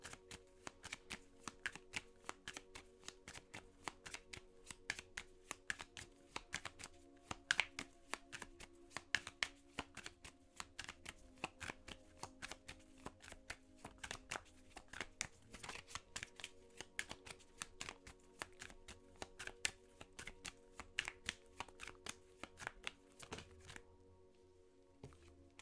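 Oracle cards shuffled and drawn from a Keeper deck during a tarot-style reading, a steady run of quick papery riffles and taps lasting throughout, close and fairly quiet, with no voices.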